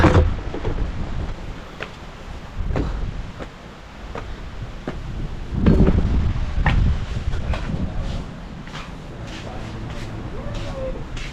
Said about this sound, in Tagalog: nakikita nyo lakas ng hangin, diba? Talagang bayo kung bayo eh.